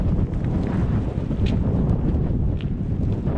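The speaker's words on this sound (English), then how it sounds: "I think it's the cables you can hear in the wind." Strong wind roars steadily and close, buffeting the microphone with broadband rushing noise, with faint higher tones as it blows through cables on a windy coast-to-coast walk.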